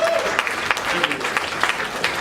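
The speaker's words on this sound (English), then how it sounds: "let's do a round of applause for lactating mothers" Audience applause at a comedy show: a dense round of clapping that fills the room without a break, with some voices mixed in among the hands.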